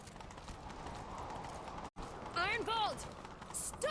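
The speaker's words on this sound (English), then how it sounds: "Grab a horse, we'll chase him down." Horse galloping in The Witcher 3 video game, a steady, close rhythm of clip-clopping hoofbeats running throughout, with voices calling out over the hooves.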